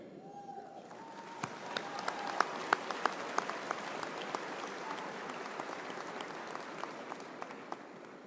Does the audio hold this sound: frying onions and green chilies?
no